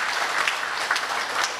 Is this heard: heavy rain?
no